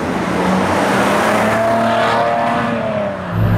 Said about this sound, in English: The first diesel engine ever produced by Maserati in all its history is a big change